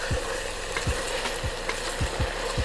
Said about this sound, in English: right now, we just wanna let these onions cook down a little bit